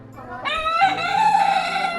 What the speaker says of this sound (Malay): ni ayam